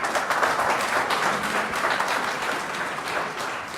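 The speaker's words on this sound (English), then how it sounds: "I already know some people will clap anything." Debate audience clapping fills a large hall, dense and continuous at first and then tapering slightly, with no voices over it.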